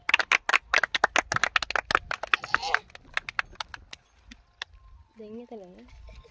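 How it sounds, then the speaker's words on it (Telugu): A small audience at a gathering claps in sharp, uneven bursts for a few seconds before the applause thins out and a voice speaks briefly near the end. "అందరూ చప్పట్లు కొడదాం."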